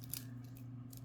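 Scissors snip through elastic stretch bracelet cord close to a tied knot, giving a couple of brief, close crisp cuts over a steady low background hum.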